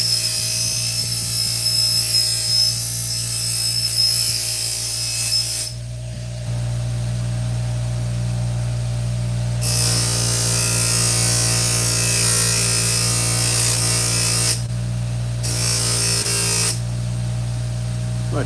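A power tool removing rust from scissor blades, a loud continuous whirring grind that drops and swells in pitch as the blade is pressed and released, stopping briefly in places.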